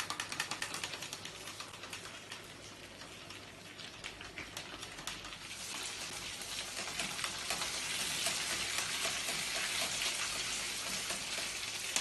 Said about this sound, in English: Now I'm gonna fry my potato fish balls